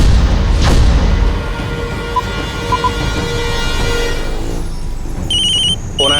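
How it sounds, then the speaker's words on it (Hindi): A telephone rings in a tense TV crime drama scene, a steady electronic ring sounding over a dense dramatic music bed, with a brief boom near the start and a brighter tone near the end. "फोन आया। उठा उठा उठा।"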